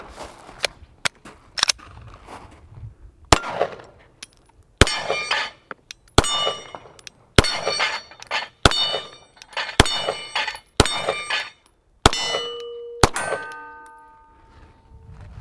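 Rapid pistol shots from a Rock Island Armory STK100, each followed at once by a sharp ringing clang from steel targets, about a dozen hits in irregular succession, loud and close, with some rings lingering and fading.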